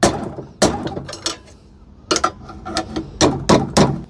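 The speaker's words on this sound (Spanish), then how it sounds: "dando unos pequeños golpes en el pliegue" Small hammer taps strike the fold of a homemade metal TV antenna, about a dozen sharp, close knocks in irregular clusters with short pauses between them.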